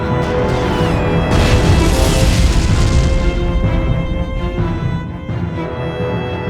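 A loud, dense cannon blast on a Paris battlefield during the 1871 Commune fighting, a sustained booming roar with crashing debris that fills the whole span and tapers slightly near the end, with no voices.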